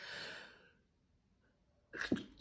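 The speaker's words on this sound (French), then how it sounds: "J'ai éternué." A person sneezes once, sharp and close, near the end, after a breathy inhale and a quiet pause, with a fading voice heard at the start.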